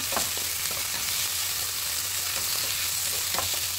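Native chicken breast sautés in a hot pan, a dense continuous sizzle with scattered pops and stirring scrapes, close and steady throughout with no voices.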